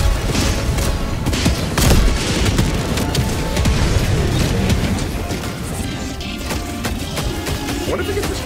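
Heavy air support strike explosions in the Helldivers 2 video game, a dense, continuous barrage of booms and crashes with a loud peak near two seconds, rumbling on under faint background voices.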